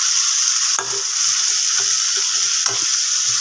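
A spatula scrapes the pan three times over a steady, close sizzle as chopped chayote is stirred into frying mashed tomato and onion for a chayote and chana dal kootu.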